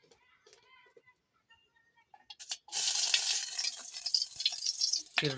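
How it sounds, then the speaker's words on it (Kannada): Chopped onions hit hot oil in a pan for Maggi noodles, starting a loud, steady sizzle that fills the second half after a quieter stretch of soft voice and handling sounds. "ಗೈಸ್, ಈರುಳ್ಳಿ ಹಾಕಿದ್ದೀನಿ. ಓಕೆ, ಅದನ್ನು ಸ್ವಲ್ಪ ಚೆನ್ನಾಗಿ ಹುರಿತೀನಿ"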